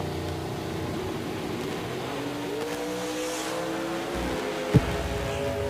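A drag racing car launches and roars down the strip at a 10K summer showdown event, its engine note rising and shifting in long sustained tones from a distance, with a sharp pop near the end and no talk.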